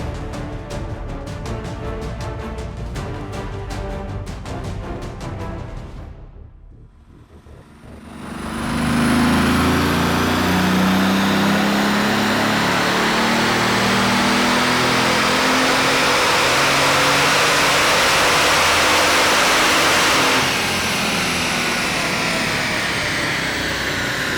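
A Bugatti engine with its muffler, resonators and catalytic converter removed revs hard on a dyno, loud and close: a rough buzzing idle, a brief dip near silence, then a sustained roaring high-rpm pull that holds steady for many seconds.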